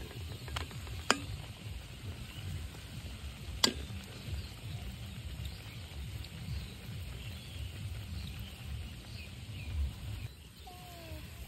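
Jamai pitha, a Bengali rice cake, soaking and frying in hot oil, with a soft continuous bubbling sizzle and occasional stirring, plus a couple of sharp utensil clicks near the start, with no talking.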